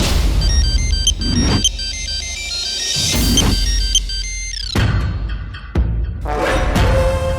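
A mobile phone rings with a bright electronic melody, repeating in bursts over several seconds amid a busy background of other sounds, loud and close.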